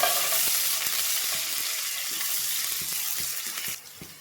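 Onions frying in oil in a pan with salt, being stirred for masala pasta: a constant close hiss of sizzling, broken by regular soft scrapes and taps of the stirring spoon.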